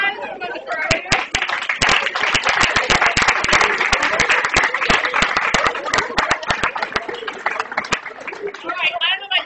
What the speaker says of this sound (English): how about one more round of applause for our leaders?